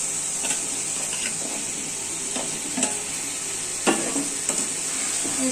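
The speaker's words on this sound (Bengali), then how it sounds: "এরপরে এইভাবে নাড়তে থাকতে হবে, ভালো করে কষিয়ে নিয়ে জল দিয়ে দেবে।" Potatoes frying in spice masala in a kadai, with a steady hiss of sizzling oil and occasional scraping strokes of a spoon stirring them, close and fairly loud.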